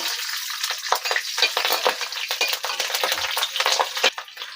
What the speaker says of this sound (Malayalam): നമുക്കിനി പച്ചമുളക് ആദ്യം ഇടാം